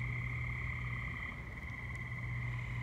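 Frogs croak as a continuous, droning chorus along a South Jersey roadside in early June. The sound is steady and moderately loud, with no talking.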